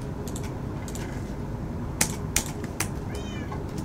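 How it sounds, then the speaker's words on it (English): A cat meows in the Minecraft video game, a short series of high mewing calls heard close and clear, with light clicking and rustling scattered around them. "I got a kitty cat!"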